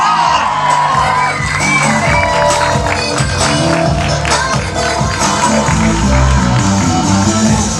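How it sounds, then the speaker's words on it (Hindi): A large crowd at a film trailer launch event cheers and whoops loudly, with shouting and some clapping mixed in over booming event music, continuous and close. "कुणाल खेमू एंड आपका अपना रोहित शेट्टी, जोरदार तालियां"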